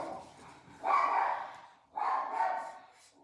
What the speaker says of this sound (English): Neighbor's walking their dog.